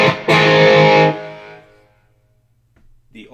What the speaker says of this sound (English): So now I'm going to have the compulsive drive on and put the Fender amp gain on.